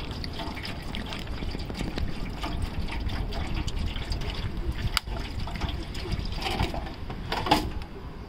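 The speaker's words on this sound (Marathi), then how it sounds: "या पद्धतीने पाणी ठेवलेलं आहे" Water is poured into a bowl set out for birds on a tall tree, a soft continuous trickle and splash with occasional drips and faint clinks, fairly quiet and close.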